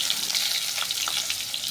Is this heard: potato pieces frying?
yes